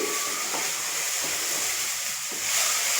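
Onions sautéing in a pan for a village-style chicken curry, with a loud, continuous close sizzle and hiss and a couple of soft stirring knocks.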